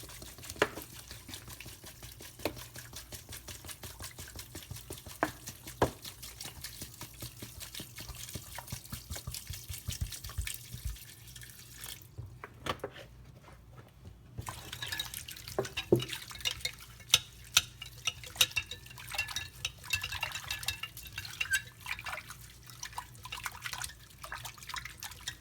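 Purple Irish moss rinsed in spring water, with steady splashing and dripping, clicks of handling and trickling water throughout, a brief quiet gap midway before the sloshing and drips resume up close.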